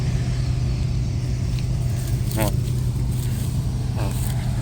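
A ZIL grain truck's engine idles on a harvest field in a steady, near, low rumble that holds evenly throughout, with faint voices in the background.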